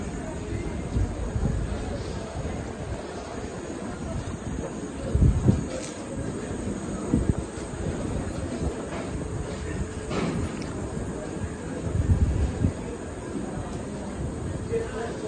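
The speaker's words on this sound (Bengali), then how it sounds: "খুব সুন্দর ট্রেনটা এসছে দারুণ কোনো রকম প্রবলেম হয়নি" A late-night train rumbles into Rampurhat station, a low, steady rolling drone with a few heavier thumps along the way. The sound is moderately close and continuous.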